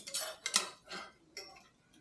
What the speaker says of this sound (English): I have these shredding forks. These work wonders on pulled pork.